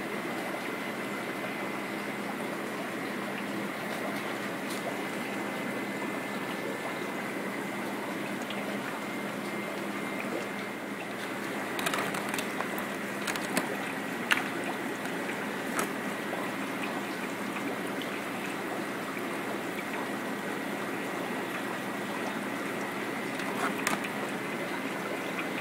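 An air bubbler bubbles water in a brine shrimp hatchery jar as a steady, even hiss and burble, with faint clicks here and there and no talking.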